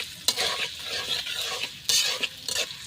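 Chopped onion and green chilli fry in a pan over a village clay stove, with crisp sizzling under repeated scraping strokes of a spatula that come in uneven bursts, close and fairly loud.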